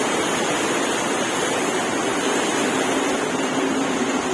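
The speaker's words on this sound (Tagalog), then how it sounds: "Malakas na yung ulan, malakas pa yung hangin" Heavy rain pours down with strong wind, a dense, loud, unbroken roar of rushing water and gusts with no voices.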